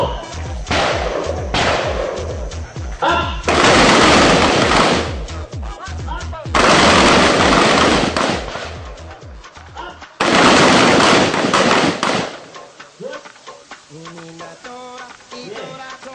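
Gunfire on a shooting drill range, with rounds fired in pairs: three long stretches of loud, dense, overlapping shots, alternating with quieter gaps where commands are called out. Talk continues over the firing.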